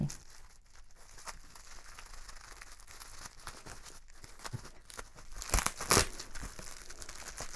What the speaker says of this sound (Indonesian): Di dalamnya dikemas pakai bubble wrapping untungnya, karena kalau nggak rawan banget untuk patah gitu kan.